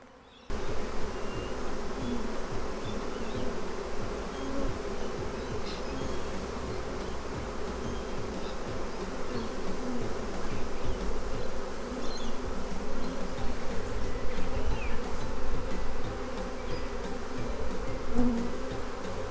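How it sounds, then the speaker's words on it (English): A swarm of bees buzzes continuously around a hive after a high treetop net catch, a dense, close drone that holds steady throughout. "So the bees are quite excited in there at the moment, which is looking good."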